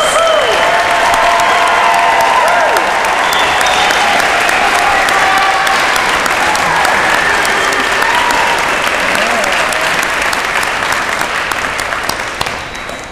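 Sustained, loud applause from a graduation commencement audience at Muskingum University honoring the class of 2022, with dense clapping and faint cheering that holds steady throughout before thinning slightly at the end.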